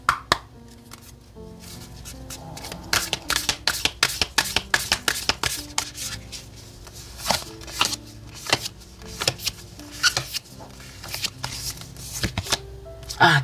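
Oracle tarot cards shuffled by hand in a steady run of crisp riffling flicks and soft slaps, close and fairly loud, with no voice over it.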